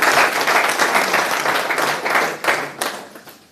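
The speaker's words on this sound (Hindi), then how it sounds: "चलिए एक बार इनके लिए भी जोरदार ताली बजा दी जाए।" An audience at a talk on direct selling breaks into loud, dense applause that holds steady, then thins out and fades toward the end.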